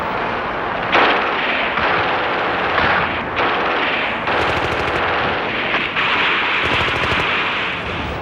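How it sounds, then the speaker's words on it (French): A wartime enemy machine gun rattles in sustained bursts of rapid fire, dense and loud, layered over a continuous roar of battle noise and explosions throughout. "Parfois, une mitrailleuse ennemie vient interrompre la progression."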